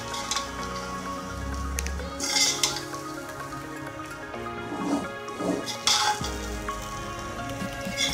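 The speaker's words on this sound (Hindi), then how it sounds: "अब इनको मिक्स करेंगे।" A spoon mixes cooked Sindhi chicken biryani rice in a pot, making a few metal scrapes and clinks against the pot over a soft background sizzle, with no talk.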